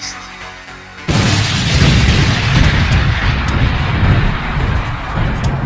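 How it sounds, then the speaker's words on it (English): An enormous explosion erupts as two anime fighters clash fists in a Dragon Ball battle with Ultra Vegito, a sudden loud boom that swells into a sustained roaring rumble after a quieter lead-in. "of course, creates an enormous explosion, one so large it can be seen from the planet's orbit"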